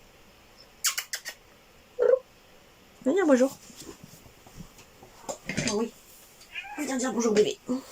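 A house cat meows several times in short, close calls, some rising and wavering, while someone speaks French softly between and over them.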